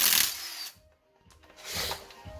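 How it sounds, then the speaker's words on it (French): A power tool unscrews parts of a drift car in a workshop, with a loud whirring burst at the start, a brief pause, then a second shorter run of the motor. "Bon, donc là, il est en train de dévisser."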